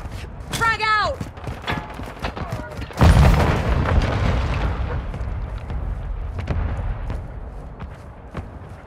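A frag grenade goes off in Call of Duty: Modern Warfare II as one sudden loud boom, followed by a rumbling tail and scattered combat noise. A voice shouts just before the blast.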